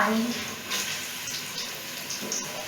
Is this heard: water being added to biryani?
yes